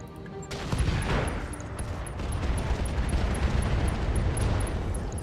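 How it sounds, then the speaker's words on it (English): Inferno bombs dropping in the RogueTech mod of BattleTech set off a sudden, sustained roar of fiery blasts and crackling detonations that continues densely to the end. "drop the Inferno so that the Orion also gets a little bit of heat from the Inferno bombs"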